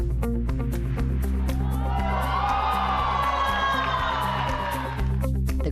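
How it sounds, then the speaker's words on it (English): A crowd cheers and shouts loudly for seniors showing off their strength, a sustained wash of voices and whoops over a steady low hum, close and continuous throughout. "The crowd goes wild for these seniors showing off their strength."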